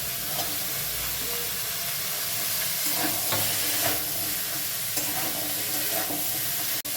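Potato, squash and carrot pieces frying in a little oil in a pan, a dense continuous sizzle with scraping stir strokes, close and loud, no voices.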